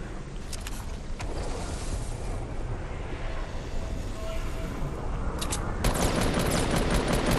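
Fortnite gunfire plays as a loud, continuous rattle of rapid shots, growing denser and harsher toward the end.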